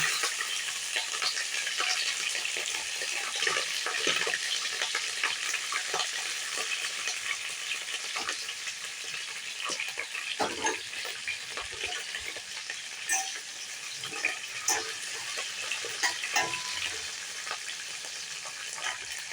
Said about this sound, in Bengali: তেল গরম হয়ে গেছে, সবজিগুলো প্রথমে একটু সতে করে নেব